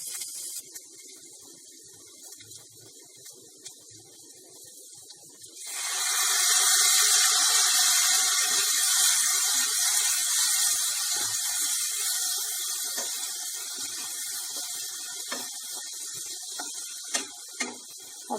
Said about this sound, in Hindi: थोड़ा सा सूख रहा है तो मैं थोड़ा सा इसमें पानी डाल देती हूँ।